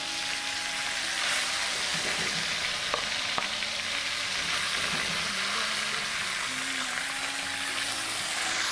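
Marinated meat pieces sear in a hot pan with a loud, continuous sizzle and crackle, and faint stirring and clinks of utensils sound under it.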